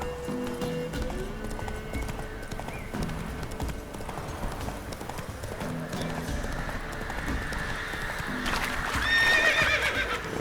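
Roach, a horse in The Witcher 3, gallops with steady rapid clip-clop hoofbeats and a whinny near the end, set against ambient game music, with a voice briefly speaking over it.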